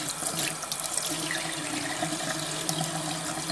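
Paint brushes are rinsed under a running tap, a steady close rush of water splashing into a sink throughout, with no talking.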